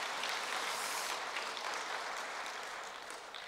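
Congregation applauding during a Sunday church service, a steady, dense wash of clapping from many hands that holds evenly for several seconds and eases slightly at the end, with no talking.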